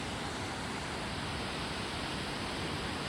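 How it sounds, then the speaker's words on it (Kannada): Steady, full roar of rushing water from a waterfall at Sangama near Mekedatu, broadband and unbroken like constant spray and pounding flow, with no voices. "ಸೊ ಮತ್ತೆ ಇನ್ನೊಂದು ಫಾಲ್ಸು ಇದು"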